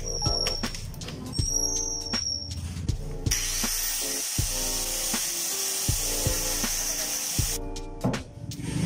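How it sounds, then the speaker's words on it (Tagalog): Power grinder working on a wooden table during a DIY repair, giving rough, rasping bursts with a sustained whine in the middle stretch, fairly loud and close, with no talk. "gagamitan ko na lang ng grinder para hindi na ako magpukpok"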